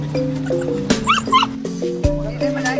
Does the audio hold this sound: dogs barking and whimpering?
yes